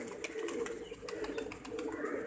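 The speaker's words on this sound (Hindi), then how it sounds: "ये कबूतर भी आपके सामने फिर रहा है।" A pigeon kept in a cage coos repeatedly, soft throaty calls in a loose rhythm close by, over faint background noise.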